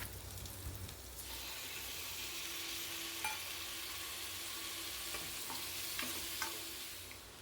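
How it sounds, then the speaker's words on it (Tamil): Ripe chopped tomatoes sauté with spices in a pan while cooking broken wheat, a steady close sizzle with occasional spatula scrapes and taps, the frying swelling louder after the first second. "அதையும் கட் பண்ணிவிட்டு இது கூடவே சேர்த்து ஒரு 2 நிமிஷத்துக்கு வதக்கிக்க போகிறேன்."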